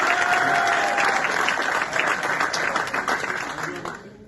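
A crowd at a union meeting at Stellantis Sochaux applauds delegates from other trade unions, the full steady clapping fading toward the end, with a few voices mixed in.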